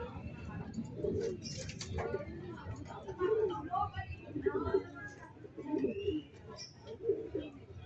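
Racing pigeons arriving at their loft give soft, repeated coos and rustles close to the microphone, while someone speaks over them.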